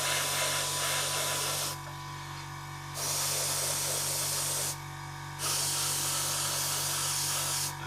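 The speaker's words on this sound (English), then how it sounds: "just going to spray this entire front half with the paint" Sharp hissing bursts of an airbrush spraying paint onto a 1/48 Su-25 model aircraft, three long sprays separated by brief pauses with a quieter background hum.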